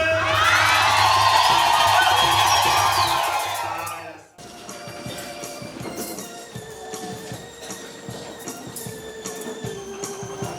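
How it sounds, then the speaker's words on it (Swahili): A church congregation at a confirmation Mass in Lolgorian, Kenya, ululates loudly in celebration, a shrill, wavering chorus of many voices that cuts off abruptly, followed by lower, scattered crowd noise and murmuring. "Wapongeze kwa vigelegele."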